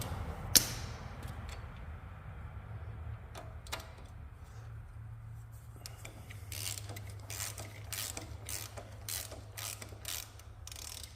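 A ratchet clicks while spark plugs come out of a John Deere LA145 riding mower, with a sharp knock early on, then a run of quick metallic clicking bursts growing busier toward the end.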